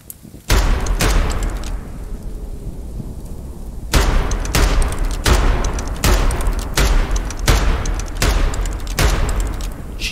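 Gunfire from a weapon in the video game Choo-Choo Charles: a quiet start, then loud, close shots ring out one after another in a roughly regular rhythm, each with a heavy booming tail, and nobody speaks.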